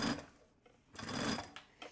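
A sewing machine stitches fabric for an insulated bottle holder in two short whirring bursts with a brief pause between them, close and moderately loud.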